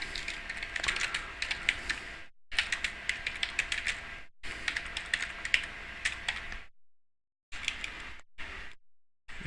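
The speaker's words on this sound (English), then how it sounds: "I'm gonna type a little response to him" Fingers type on a computer keyboard, rapid close clicking in bursts broken by short silent gaps, with no voices.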